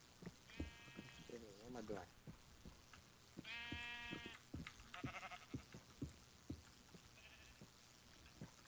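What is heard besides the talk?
sheep bleating in the video game Minecraft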